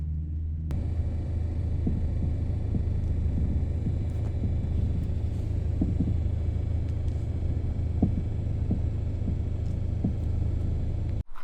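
A car driving on a road near Cradle Mountain in Tasmania, a steady loud low engine and tyre rumble from inside the cabin, continuous for the whole stretch before cutting off abruptly at the end.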